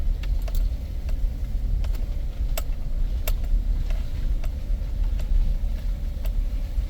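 A Chevy drives slowly through a shallow creek near an off-grid homestead, giving a steady low rumble of engine and water churning around the wheels. Faint ticks and knocks sound throughout, and no one speaks.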